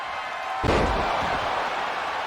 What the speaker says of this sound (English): His face slams into the ropes.